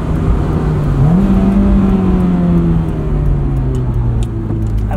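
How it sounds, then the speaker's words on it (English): A 2003 Honda S2000 engine revs up sharply then holds and slowly settles, a loud, close mechanical drone with no voices. "I love the way this engine revs."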